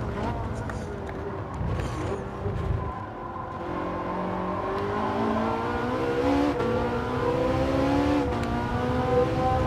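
A Ferrari engine in Gran Turismo 7 roars as it accelerates, its rising harmonic whine climbing steadily and growing louder over several seconds, with someone talking in the background.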